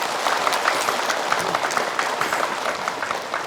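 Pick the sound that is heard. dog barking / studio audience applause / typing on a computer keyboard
studio audience applause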